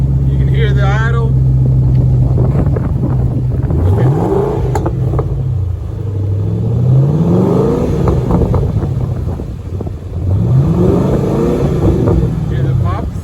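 A 2005 Ford Mustang GT V8 fitted with SSS Adrenaline mufflers idles with a deep, loud burble close by. It swells into several revs and settles back, and people talk over it.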